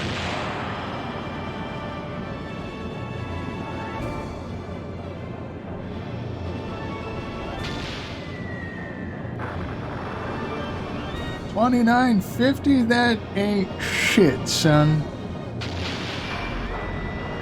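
Sub-cannon fire in the Skies of Arcadia Legends video game, heavy booming blasts and crashes layered over game music, with someone talking through much of it and a burst of louder impacts near the end.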